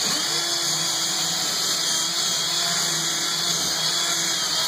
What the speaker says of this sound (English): We'll drill the hole for the hook.